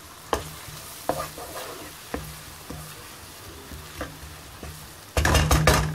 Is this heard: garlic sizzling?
yes